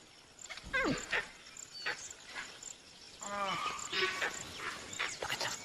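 A sambar deer gives sharp, bark-like alarm calls from a hillside in tiger country, several short calls at a moderate distance over a background of insect chirping.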